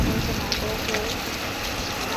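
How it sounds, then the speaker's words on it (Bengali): Rain falls steadily at night, a dense, even hiss that stays close and constant for the whole stretch with no clear breaks. "বৃষ্টি হচ্ছে, বৃষ্টি।"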